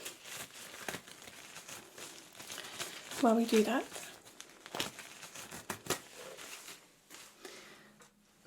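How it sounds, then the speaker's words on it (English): Gloves being pulled off with crinkling, rustling latex sounds at close range, a brief cluster of crackles amid soft movement while a voice speaks quietly over it. "Just take my gloves off for a moment"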